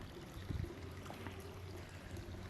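Water trickling and pouring along narrow garden channels in a Moroccan courtyard garden in Marrakesh, a steady close flowing murmur with a few brief louder splashes near the start, no talk.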